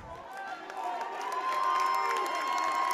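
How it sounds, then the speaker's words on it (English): A basketball crowd at a Vermont Division 3 quarterfinal playoff game between Hazen and Randolph swells with cheering and shouting in a gym, building steadily and staying loud throughout, with some voices mixed in. "Randolph crowd comes alive now."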